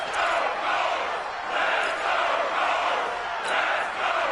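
A football stadium crowd in a PS4 video game roars and cheers in swelling waves, a dense, continuous wash of many voices rising and falling without pause.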